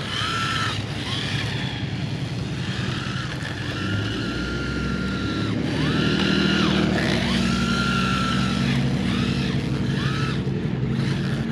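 A 1/16 scale RC drift truck makes a high, whining electric motor buzz that rises and falls in pitch with repeated throttle bursts as it makes passes. The sound is steady, fairly loud and close, with no voices.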